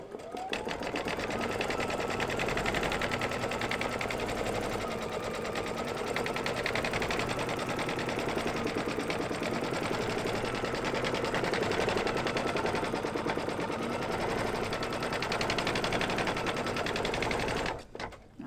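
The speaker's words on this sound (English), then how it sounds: "Now we're going to go to stitching. The placement stitches first." An embroidery machine sewing placement stitches for an in-the-hoop wineglass coaster, running as a loud, steady, rapid needle rattle for about seventeen seconds before stopping abruptly.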